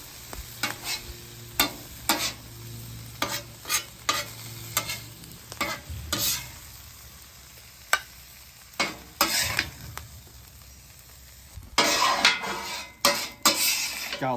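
Sauerkraut and pastrami warming on a flat griddle, a soft sizzle under repeated scraping and clacking of a metal spatula, with sharp tool hits spaced irregularly and a busier burst of scraping near the end.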